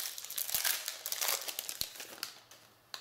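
A Magic: The Gathering booster pack wrapper from the Oath of the Gatewatch green-white intro pack crinkles and crackles up close, with a few sharp tearing snaps among the rustling, and no voices.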